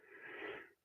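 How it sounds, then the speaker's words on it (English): A man yawns once during live arm-wrestling commentary: a single close, breathy, drawn-out exhale lasting under a second, with no other sound around it. "He just made me yawn by asking me that question."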